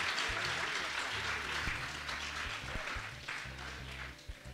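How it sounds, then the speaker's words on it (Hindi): Schoolchildren clap loudly together for visiting guests at a ceremony in a Delhi government school, a dense sustained burst of applause that fades slightly near the end. "सभी एक बार जोरदार ताली बच्चे बजाएंगे हमारे आए हुए सभी अतिथियों के लिए"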